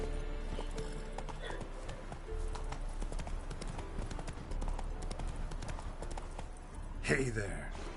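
Roach, the horse in The Witcher 3, gallops with rapid rhythmic hoofbeats at moderate volume, a steady clip-clop under faint game ambience, ending with a short whinny-like burst near the end.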